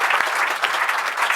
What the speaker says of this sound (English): Can we give everybody a round of applause?